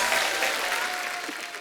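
Audience applause in a comedy show studio, a dense wash of clapping from a crowd, steady and moderately loud over a short stretch.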